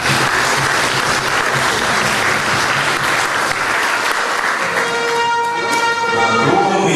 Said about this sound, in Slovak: Ešte raz veľký potlesk.